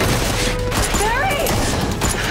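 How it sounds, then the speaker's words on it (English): Gunfire sound effect from The Flash TV series, a burst of shots mixed densely into a loud, busy scene with other effects and possible voices, continuous over a couple of seconds. "Running into the middle of gunfire can get you shot?"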